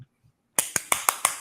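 A hand slapping a thigh, several sharp, evenly spaced slaps ringing out loud and close after a brief quiet start, with no talking over them.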